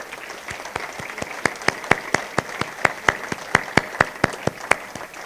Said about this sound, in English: give yourself a well-earned round of applause